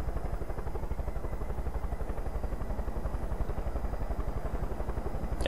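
Helicopter landing in the video game Far Cry 5 gives off a steady, rapid rotor chop and engine drone, close and constant throughout.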